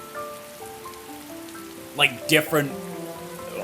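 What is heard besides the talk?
rain falling in Atelier Ryza 2 video game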